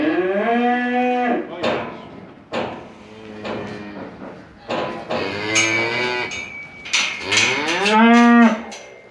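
Several protective cows with calves moo on a farm during calf tagging, a series of loud, close, drawn-out calls overlapping one another with brief pauses between them.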